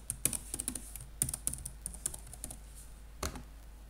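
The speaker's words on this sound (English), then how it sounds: "Type it again." A password is typed on a computer keyboard during Windows setup, with quick irregular clicking keystrokes in short bursts and a final pair of louder taps near the end, close and clear with no talk.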